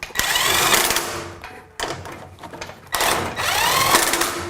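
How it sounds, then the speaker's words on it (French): Impact driver tightening bolts on a bathroom cabinet rail during installation, heard as a loud whirring burst broken by rapid hammering, with short pauses between three runs. "moi j'utilise une visseuse à choc"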